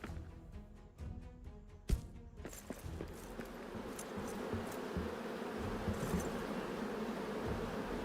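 Bees hum around a bee house in the game Return to Moria, a soft continuous buzzing drone that builds after a few scattered knocks and clicks at the start.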